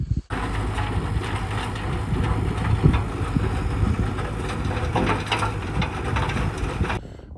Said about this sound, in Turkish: biz e, traktörümüzle taş toplama makinemizle gelip tarlalarındaki taşı topluyoruz